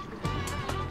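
A voice imitates a character slurping honey, producing a short, wet, gurgling slurp under a game's background noise, lasting under a second.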